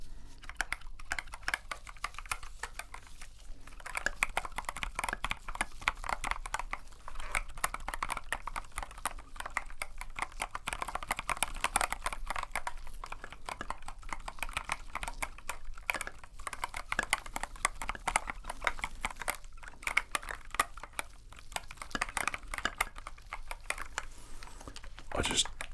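Keyboard keys clatter in a dense, steady stream of quick clicks at close range, typing continuously with only brief pauses, in a relaxing retro game store setting.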